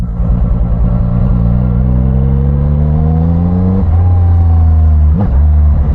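A Zontes 703R motorcycle engine revs up as the throttle twists, climbing in pitch steadily, dipping briefly, then rising again. The sound is loud and close, with a deep rumble under it.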